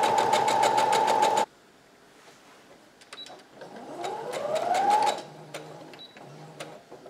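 Sewing machine stitching a tank top seam: a loud rapid mechanical burst at the start, then quieter intermittent whirring and clicks as the machine speeds up and runs on, close by with no talk.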